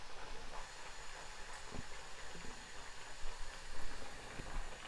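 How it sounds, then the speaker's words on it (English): A continuous hiss of green plantain frying in hot oil, fairly quiet and steady with a few soft pops, and no voices. "now I'm just gonna add them in this oil to fry again"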